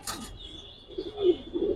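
Pigeons cooing, including Giribaz-type birds, low soft coos rising in the second half after a brief flutter at the start, fairly close with no voices.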